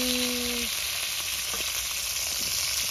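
Cauliflower and other vegetables sizzle steadily as they fry in hot oil during a village-style cooking session. The crackle is continuous and close, with no talking.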